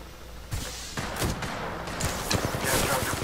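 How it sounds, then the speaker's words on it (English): Gunfire from a rival squad in Apex Legends: a steady clatter of repeated shots across the whole stretch, with sharper bursts and cracks stacking up toward the end, loud and busy, with a voice briefly heard under it. "A second squad is firing at us"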